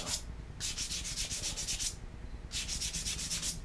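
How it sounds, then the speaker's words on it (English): A wooden spoon being hand-sanded with fine-grit sandpaper, close up: two bursts of rapid back-and-forth rasping strokes separated by a brief pause, each burst a quick even rhythm of scratchy rubs. "Sand that right out of there."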